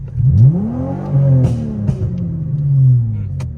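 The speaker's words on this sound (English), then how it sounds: "My car also sounds way better in touring mode." A car engine revving up and easing off in smooth swells, loud and close, with no talking over it.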